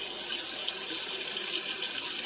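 Tap water runs steadily into a Dutch oven on a stovetop, filling it to the rim, a continuous close hiss and splash with no talking.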